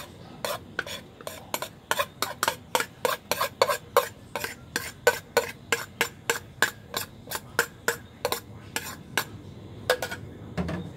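Repeated scraping and clinking of a utensil against a pan while stirring shredded crab sticks into eggs, in a steady, quick rhythm, close and clear, with a faint sizzle underneath.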